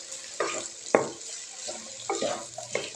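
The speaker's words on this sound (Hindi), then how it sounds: "अरवी डाल देंगे और इसको ज़रा इसके अंदर मिक्स करेंगे" Taro root is stirred into onions frying in a pan, giving several close, scraping stirs and soft wet shuffles over a low, quiet sizzle.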